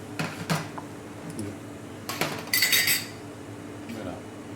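Cutlery cuts into a poached egg on a plate in a restaurant kitchen, with a few distinct metallic clinks and scrapes against the dish over a low background hum.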